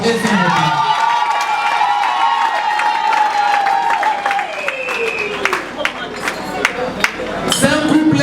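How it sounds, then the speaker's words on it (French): Wedding guests at a religious ceremony break into applause and scattered cheers for the couple, mixed with crowd noise and overlapping voices, with louder sharp claps and whoops standing out toward the end. "On peut applaudir d'abord pour eux."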